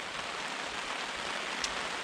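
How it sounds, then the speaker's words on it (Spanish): Steady rain falls at a mountain campsite around 3,500 metres, an even close hiss of drops on surfaces with no voices over it. "Hasta ahora la lluvia nos ha irrespetado."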